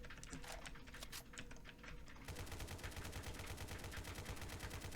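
An RPK light machine gun fires in the Dread video game, starting with scattered shots and then breaking into a fast, steady automatic burst that holds to the end.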